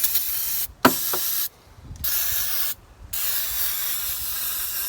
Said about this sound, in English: I'll just squirt some degreaser around the place